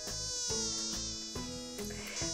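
Mosquito buzzing continuously at close range, a thin steady whine that wavers slightly in pitch over a few seconds, with no voices.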